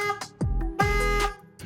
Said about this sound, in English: Tahoe horn, it sounds broken.